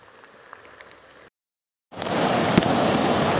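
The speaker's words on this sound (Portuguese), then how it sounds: "Muita chuva na cidade de Altaneira," Heavy rain pours in Altaneira, Ceará, a dense steady roar that begins after a short silent gap and continues loud to the end, following a quieter stretch of softer ambient noise.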